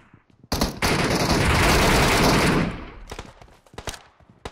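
In PUBG Metro Royale, a loud, dense burst of rapid gunfire rattles for about two seconds, followed by scattered, fainter single shots from further away.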